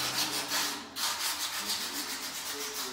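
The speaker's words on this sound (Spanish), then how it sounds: "ya lo está tallando con lija, una lijita de 120 con agua" Rhythmic back-and-forth scraping of 120-grit sandpaper wet-sanding a cement floor, close and steady, with a brief pause before the strokes resume.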